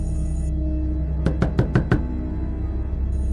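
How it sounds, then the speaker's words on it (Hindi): Five quick knocks rap on a room door in an even burst, close and distinct, with a quiet background before and after. "उसी टाइम किसी ने हमारे रूम का दरवाज़ा पर नॉक किया"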